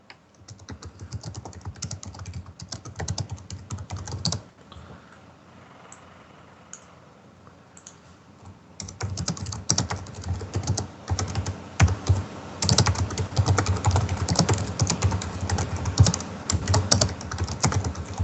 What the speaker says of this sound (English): I'm just typing to the channel.